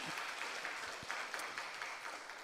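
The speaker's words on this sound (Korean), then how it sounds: "우리 예수님에게 감사 박수 한번 올려드려 하겠습니다." Church congregation giving a round of thankful applause during a sermon, a soft, even wash of many clapping hands heard from a distance, fairly quiet and continuous without speech.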